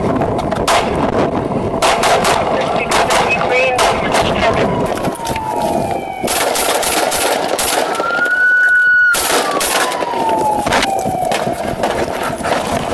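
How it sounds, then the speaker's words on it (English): Rapid gunshots ring out in a Minnesota Walmart parking lot, a dense run of loud, sharp cracks spread across the whole stretch with a rising tonal wail threaded through, and no talk in between. "Shots fired, Walmart parking lot"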